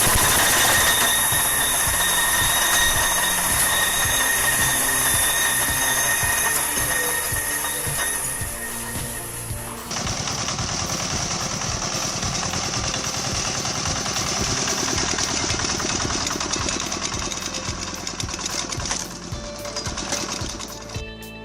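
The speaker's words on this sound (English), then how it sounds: "A fast splitter is useful only when it is handled with discipline." A firewood processor log splitter runs continuously, a loud and dense mechanical clatter with rhythmic knocking and a steady high whine that changes character partway through, with no speech.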